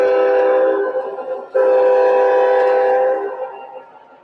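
A model train auxiliary power unit with sound effects rolls past, giving off a loud, steady horn-like tone that breaks off, sounds again sharply, then fades away.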